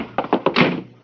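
A door slamming shut in an old noir detective radio drama: a quick run of close, hollow knocks and thumps ending in one heavier thud that fades away.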